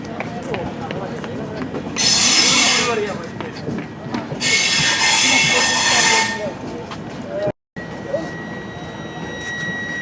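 A passenger train with sleeper and AC coaches rolls into a station, its wheels squealing loudly in two long bursts over a steady rumble of carriages, with people talking nearby.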